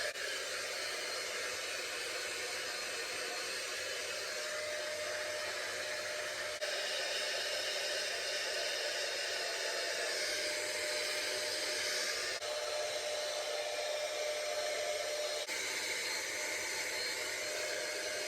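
A Dyson Airwrap dupe hair dryer blows steadily on its cold setting, a loud, close, continuous airy roar with no pauses and slight shifts in tone as it moves.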